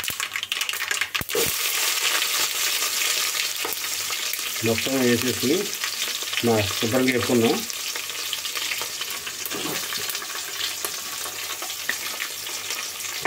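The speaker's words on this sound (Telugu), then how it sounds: "ఇప్పుడు పచ్చిమిరపకాయలను ఉల్లిపాయ ముక్కలు వేస్తుంది." Green chillies and chopped onions hiss and crackle in a hot oil tempering for village-style rice rava upma, a steady close sizzle throughout with a voice speaking briefly over it midway.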